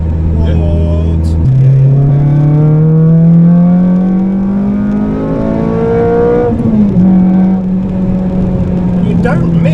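Close, loud revving of a Honda Civic Type R FN2 with a K24 engine swap as the pitch steps up and climbs steadily, dipping briefly before settling into a sustained high drone; faint voices underneath.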